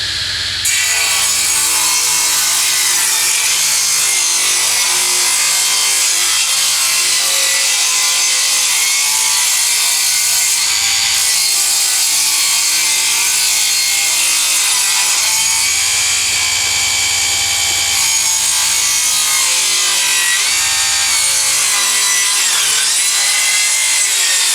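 A Lidl Parkside hand saw blade cuts through green chestnut wood 50mm thick, a loud, continuous rasping stroke-by-stroke sawing that carries on without pause, close up and with no talking.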